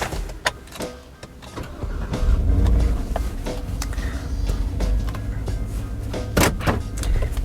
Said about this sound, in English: So now let's go and take this large vehicle for a drive.